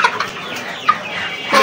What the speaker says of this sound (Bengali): দেখুন কত বড় মোরগ